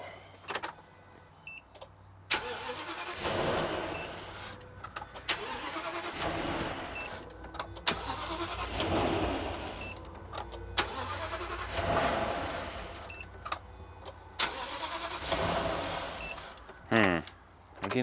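The engine of an old Sunstar RV cranks again and again in separate grinding bursts without catching, heard from close by with short pauses and occasional talk between attempts.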